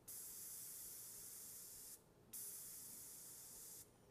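Steady fine hiss of an airbrush spraying for taxidermy work, close and even, cutting off briefly once before resuming, with a soft pause at the end.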